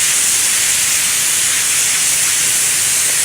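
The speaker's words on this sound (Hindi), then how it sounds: "अब हम करेंगे चिकन को फ्राई। और हाई फ्लेम पे चिकन को आपने फ्राई करना है।" Chicken pieces for shawarma fry over a high flame, giving a loud, steady, close-up sizzling hiss that runs without a break.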